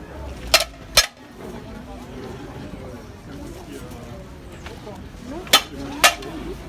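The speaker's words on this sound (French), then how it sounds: "Faites du bruit comme moi avec des casseroles." Pots and pans are banged in a protest, several sharp metallic clanks in two pairs, loud and close, with a voice speaking between them.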